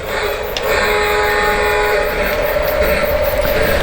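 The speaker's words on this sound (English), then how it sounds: "let's let the train get past the turnout" A small model train runs along its track with a steady, close whirring and rattling hum that continues without a break.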